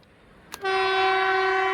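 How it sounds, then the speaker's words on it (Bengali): A Vande Bharat train approaching, its horn breaking in with a sudden loud, sustained tone over a low rumble of the track, close and steady to the end. "তো দেখো গাইস বন্দে ভারত ট্রেন চলে আসছে, দেখতে পাচ্ছ কিভাবে লাইট জ্বলে দেখো।"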